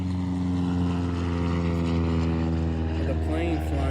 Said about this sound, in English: the plane flying over me